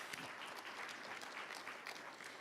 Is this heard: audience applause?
yes